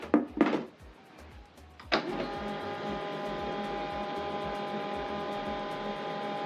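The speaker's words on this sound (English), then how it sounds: "you need to plug the printer to the power" HP LaserJet M140we printer powering up: two brief clicks and a short mechanical whir, then a steady loud motor hum that runs on without a break, close by with no talk.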